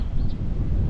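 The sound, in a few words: strong wind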